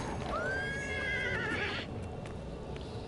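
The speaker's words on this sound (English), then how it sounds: "They're all attacking the flaming horse as well." Horse in Oblivion Remastered gives a single long, rising whinny that wavers and fades out, heard over a constant rough background rumble with faint hoof thuds.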